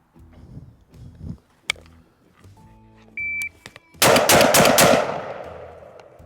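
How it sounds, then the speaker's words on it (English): A Mossberg 940 Pro Tactical shotgun fires four loud, close shots in a fast burst, and a ringing echo tails off after them. Light mechanical clicks and thunks come earlier. "So that's 4 shots in 162."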